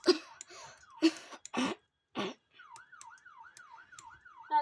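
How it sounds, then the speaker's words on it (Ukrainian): A rising-and-falling ambulance wail siren cycles steadily in the background after several coughs and groans up close, the siren fairly faint and continuous. "Вже швидка їде"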